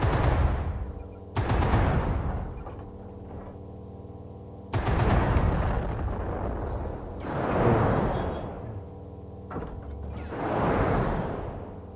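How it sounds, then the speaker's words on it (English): Autocannon fire in the MechWarrior video game, heard as four heavy booming bursts, each with a sharp onset and a rolling, whooshing decay, loud and close, spaced a few seconds apart with a low mechanical hum between. "As an example, let me use my autocannon."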